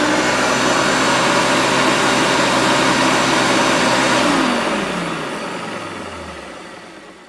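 A refurbished Hoover TurboPower 1 vacuum cleaner running close by with a loud, steady whirring roar, then switched off, its motor pitch sliding down as it winds to a stop over the last few seconds.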